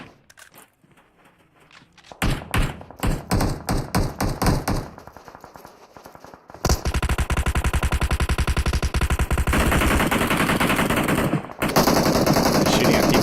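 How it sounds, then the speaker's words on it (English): PUBG Mobile gunfire starts as spaced single shots, then becomes loud, dense, sustained automatic bursts that run almost without a break, with a brief gap near the end. "Shooting at people down the road."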